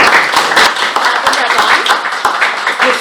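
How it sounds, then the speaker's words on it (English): A room of people at a Toastmasters club meeting applauds. Dense, lively clapping from many hands continues steadily throughout, close and fairly loud. "give a round of applause for our SA"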